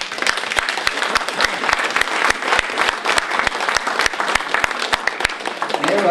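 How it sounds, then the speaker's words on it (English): Audience at a Christmas party claps steadily in sustained applause, many hands close and loud, with sharp individual claps standing out over the dense wash of clapping. "just applauding there at the moment"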